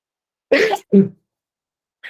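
One person with allergies sneezes: a sharp, loud burst followed by a second shorter expulsion, then a brief faint sound after a pause, close and in an otherwise quiet room.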